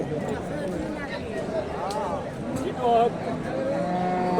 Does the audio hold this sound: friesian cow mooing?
yes